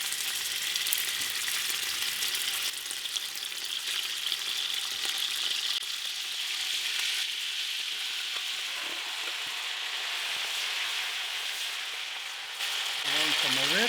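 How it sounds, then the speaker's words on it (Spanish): Pork loin sizzles and crackles in hot oil in a pan, a dense, steady frying hiss up close that runs throughout, with a brief stir or clatter near the end. "Ahora le vamos a poner la carne."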